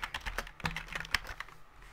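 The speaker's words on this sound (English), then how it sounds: "I'm just typing Thai." Quick, irregular clicks of a computer keyboard being typed on, close and fairly quiet, in a short burst of keystrokes.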